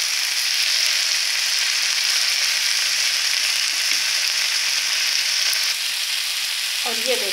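Green chillies fry in a pan with a steady, loud hissing sizzle, then a brief clink of a utensil near the end.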